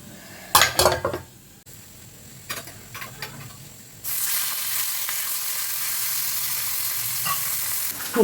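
Chorchori, a mixed vegetable curry, reheating in a pan: a few scraping, clinking stirs of utensil against metal early on, then a steady loud hiss of sizzling that holds to the end, with no voices.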